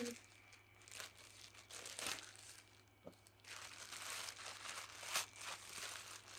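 Plastic parcel holding ordered slippers being torn and opened, with crinkling and crumpling bursts of plastic, a few sharper rips near the end, close and moderately quiet.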